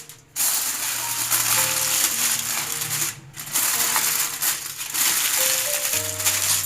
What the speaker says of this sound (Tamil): ஒரு அலுமினியம் ஃபாயில் டைட்டாக சீல் பண்ணிடணும்